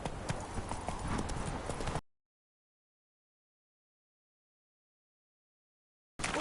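Hooves of Roach, the horse in The Witcher 3, clopping along at a walk for about two seconds, followed by a long stretch of dead silence and a brief return at the end.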